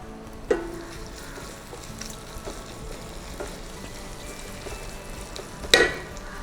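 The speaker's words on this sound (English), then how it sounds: "I'm adding some garlic, some chopped garlic, and tons of ginger" Chopped garlic and ginger tossed into onions frying in a pan for chicken tikka masala, giving a quiet, steady sizzle with a couple of sharp clicks and clatters, no talking.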